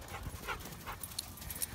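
A dog pants quickly and close by in soft rhythmic huffs, fairly quiet, with a few faint clicks in the background and no talking.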